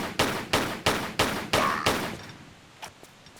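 Gunshots fired at an enemy in Tomb Raider III: five loud, evenly spaced blasts about a third of a second apart, each with a ringing tail, followed by fainter scattered clicks.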